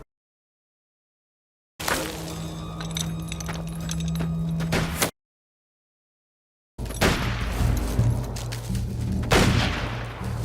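Gunfire in a Western film shootout plays in two bursts separated by silence, the first with a steady tone under rapid shots, the second a dense, loud flurry of overlapping gunshots.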